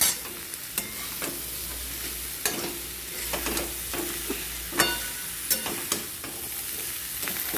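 Cloves and spices fry in a pan with a steady sizzle, broken by a series of scraping stirs and occasional clinks of the spoon against the pan, close up with no talking.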